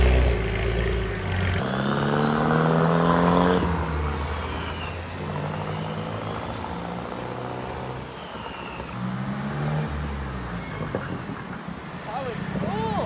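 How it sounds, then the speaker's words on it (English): A VUHL supercar's turbocharged engine revs up and holds a steady, close drone, with a rising whine fading after a few seconds and people talking lightly over it. "That turbo sounds amazing,"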